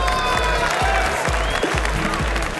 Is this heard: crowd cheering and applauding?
yes